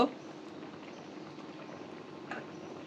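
Bottle gourd boiling in water in a covered pot: a quiet, steady bubbling simmer, with a soft knock at the start and a faint clink near the end.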